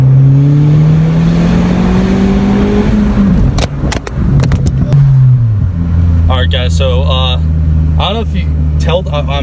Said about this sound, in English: I just went full throttle there